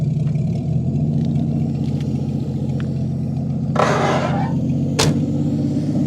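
Engine of a 1959 Chevy Biscayne idling steadily up close, a continuous low rumble with a brief burst of clatter or hiss near the end and no talk.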